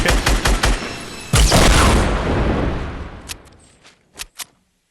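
A rocket explosion in the Fortnite battle royale game: a quick burst of gunfire, then a loud booming blast that rumbles and fades over a couple of seconds, followed by a few scattered shots.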